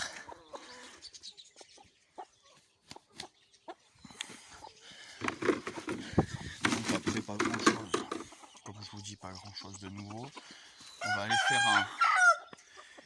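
Chickens and other poultry in a backyard coop cluck and chatter while a rooster crows loudly near the end; someone talks over the birds throughout.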